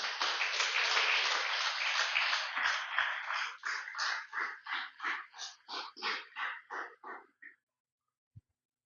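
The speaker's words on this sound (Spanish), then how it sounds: "Déselo fuerte el aplauso, aleluya" Church congregation applause, a dense burst of clapping that thins into slower rhythmic claps in unison before stopping, heard on its own.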